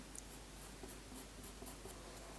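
Pastel pencil drawing on Canson Mi-Teintes velvet pastel paper, a quiet, steady scratchy scraping of the pencil tip across the soft surface, close and continuous with small rhythmic strokes.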